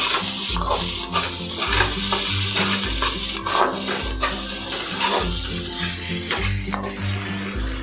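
Bitter gourd curry with red chilli and homemade masala is stir-fried in a pan, a loud, steady sizzle broken by rhythmic spatula scrapes and clinks against the metal repeating every second or so, with no talking.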